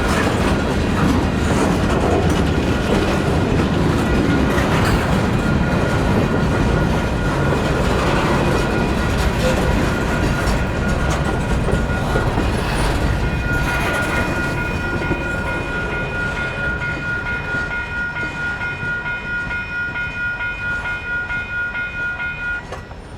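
A CPKC freight train passing near La Crosse, Wisconsin, a loud, continuous rumble with wheel noise and steady metallic squealing tones that slowly fade as the train moves away; no talking.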